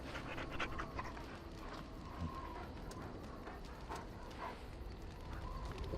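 A dog in the video game Dragon Age: Origins pants quietly in a soft rhythmic run of breaths over a faint background hum, with a few small clicks.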